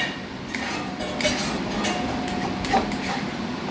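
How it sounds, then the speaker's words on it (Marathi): Ragi (finger millet) halwa being stirred in a pan on a gas stove, with a spoon clinking and scraping against the metal in irregular taps over a steady background hiss, fairly close and moderate in level. "आता हे आपण चांगलं चार ते पाच मिनिट चांगलं हलवून घेऊया"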